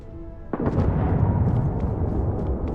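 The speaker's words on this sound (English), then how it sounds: "that was an explosion for a second then" A sudden explosion in the video game Starfield bursts out with a sharp onset and then rolls into a sustained, loud, rumbling roar that carries on without fading.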